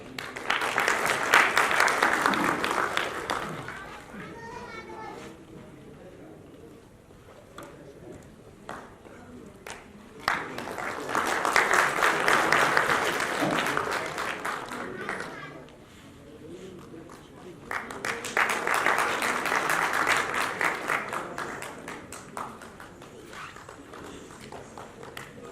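An audience at a Republican Party of India event in a hall applauds a welcome in three separate rounds of clapping, each swelling and fading, with a voice speaking over the pauses between them.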